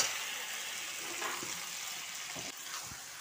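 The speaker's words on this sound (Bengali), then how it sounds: "এবার ম্যারিনেট করা চিকেনটা দিয়ে দিচ্ছি।" Marinated chicken goes into a masala that has been fried for several minutes until the oil separates. A steady, even sizzle hisses alone throughout.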